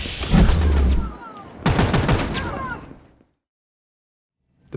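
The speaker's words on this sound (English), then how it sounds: "calling the weapon fire sound system in Wwise" Weapon fire sounds from a video game play as two loud, close rapid bursts of automatic gunfire, each trailing off, followed by silence.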